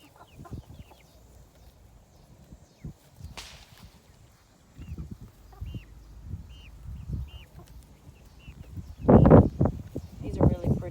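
Speckled Sussex chickens in a backyard pen give soft, scattered clucks and low murmurs, quiet at first and growing busier and louder near the end, with a person speaking nearby.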